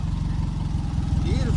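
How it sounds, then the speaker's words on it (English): A Husky motorcycle engine idles close by in a steady, low, throbbing rumble that continues evenly throughout, with a voice briefly audible over it. "I'll leave it here idling"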